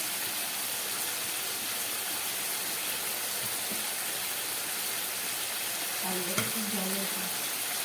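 Spice water simmering in a pan for a bhola fish curry, a continuous close bubbling and hissing that holds steady, with a brief clatter near the end as green chillies go in.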